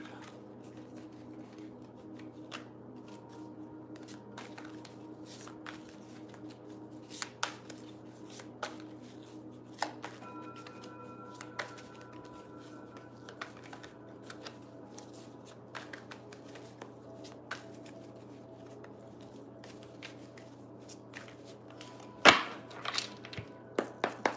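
A deck of oracle cards is handled and shuffled, giving soft, close papery riffles and taps that come in scattered bursts over a low steady hum. No one speaks.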